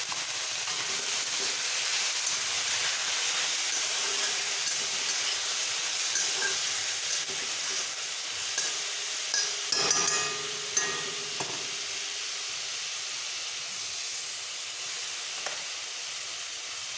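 Vegetables added to a hot pan while frying rice, with a continuous hissing sizzle and a brief burst of clattering and stirring partway through.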